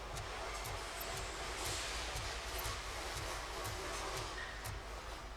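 Subway train in the video game Robocop Rogue City: a steady low rumble with regular rhythmic clacks of wheels over rail joints, continuous and moderately loud throughout.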